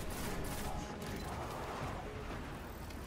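Gunfire aimed at a boss during a raid in the video game Destiny, a dense continuous barrage of rapid shots and mechanical clatter, loud and unbroken throughout.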